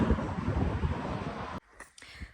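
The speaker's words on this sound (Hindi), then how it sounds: "बहुत ठंडी हवा चल रही है।" Cold wind buffets an outdoor microphone in a steady, loud rumbling roar, then cuts off abruptly into near quiet with a few faint thuds afterward.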